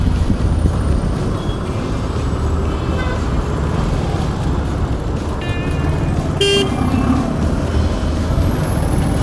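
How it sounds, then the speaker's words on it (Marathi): Dense traffic jam on the old Bhiwandi road at Vadpe, India, with constant engine rumble and several car horns tooting, one sharp honk standing out, loud and close. "इथे ट्रॉफिक लागलेली आहे भिवंडी जुना अकरा रोड मार्गे येणारे वाहतूक कोंडी"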